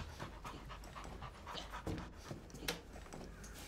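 Dogs panting in a room, a steady rapid breathy rhythm carrying on throughout the clip at moderate level, with occasional small rustles and shuffles but no clear speech.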